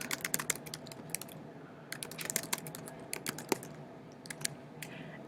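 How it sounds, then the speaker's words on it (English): Steady typing on a computer keyboard while entering a blog post, with clusters of quick key clicks broken by brief pauses, close and fairly quiet, with no talking. "And then I'm going to start typing here."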